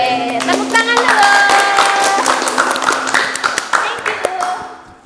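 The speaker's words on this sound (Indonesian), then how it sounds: "Tepuk tangan dulu." Hands clapping in a lively burst amid cheerful voices and background music, fading out at the end.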